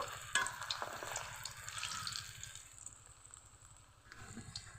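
Quiet, steady bubbling and sizzling of bottle gourd koftas frying in oil, with occasional light crackles, no voices.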